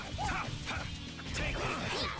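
A dog barks and whimpers in the Tales of Vesperia video game, with short yips and whines repeating in quick bursts over busy game sounds while a character's voice speaks alongside.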